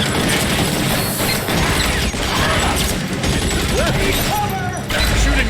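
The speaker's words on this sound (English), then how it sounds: "They're shooting me." Rapid gunfire aimed at the player in the video game L.A. Noire, with loud dense volleys and mechanical clatter running continuously, and someone speaking over the shooting.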